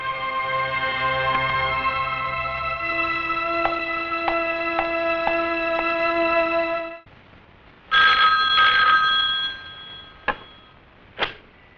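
A telephone rings at a police station, a sequence of electronic ringtone bursts with tonal chimes, then a pause before more loud ringing pulses and a couple of sharp final rings, with no talk over it.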